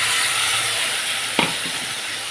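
Spices and tomato paste stir-fry in a pan with a loud, steady sizzle and one sharp scrape of the spatula partway through.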